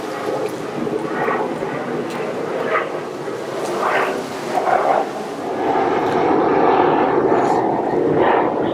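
An airplane flies overhead outdoors, a broad, steady roar that swells toward the end, while a person talks and chews close by during a hot pepper tasting.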